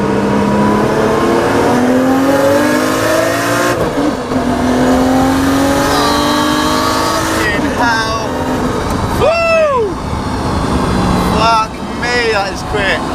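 A tuned Nissan Skyline R32 GTST with a 2.3-litre Tomei stroker engine making about 400 bhp accelerates hard in second gear on a straight road, its loud engine note climbing steadily in pitch, with a brief break partway through.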